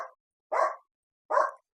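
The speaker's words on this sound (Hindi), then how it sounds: "ये तो भौंकना चालू हो जाती जब देखो, अगर कोई भी मेन गेट खोलो किसी के लिए भी तो" A dog barks at a home's main gate: three short, loud barks close by, separated by pauses of about half a second, with no talking over them.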